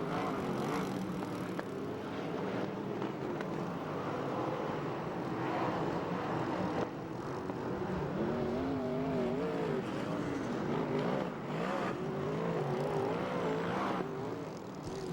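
USAC/CRA sprint cars race at Ventura, California, their engines a loud, continuous roar whose pitch rises and wavers as the pack circles.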